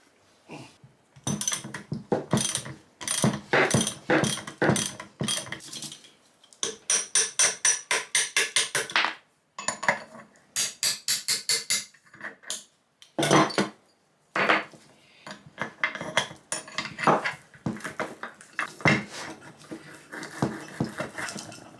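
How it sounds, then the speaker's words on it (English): A Triumph TR6's rear suspension brackets are worked loose with tools, giving clusters of close metallic clanks and rapid ratcheting clicks, broken by brief pauses, with no voices. "My first job will be to undo these brackets from here and remove the bushes."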